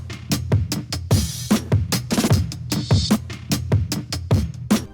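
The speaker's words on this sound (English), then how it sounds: "2 different open hats. One is a reversed open hat, and then the other one is just before the snare" Hip-hop beat with punchy kicks and snares in a steady loop, a reversed open hi-hat swelling in and a second open hat just before the snare.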